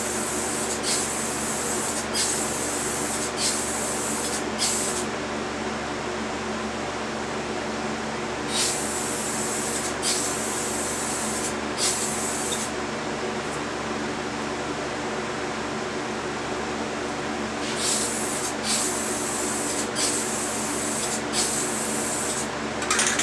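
A can of Rust-Oleum spray paint hisses close by in repeated bursts of varying length as a final coat goes on. Brief pauses fall between the sprays, over a constant background hum.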